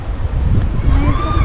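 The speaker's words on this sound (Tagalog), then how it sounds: "Girl, ang hangin grabe." Strong wind gusting at a riverside campsite in Norzagaray, loud low rumbling buffeting against the microphone with a continuous blustery roar throughout the short moment.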